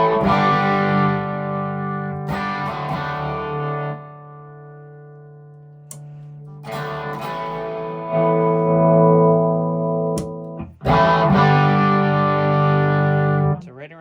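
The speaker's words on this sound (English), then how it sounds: "how it kind of goes from clean to starting to distort." Mesa Mark IIB+ loop mod guitar amp run through an attenuator, its tone moving from clean toward distortion across a series of loud sustained chords and notes with brief pauses between.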